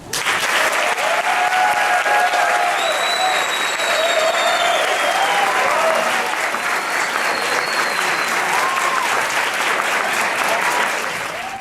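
Sustained, loud audience applause at a talk welcomes a singer, a steady wash of clapping with faint whistles and voices running underneath for about twelve seconds.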